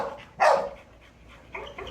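A dog gives one sharp, loud bark, followed by fainter whimpering yips in a quiet room with no talking.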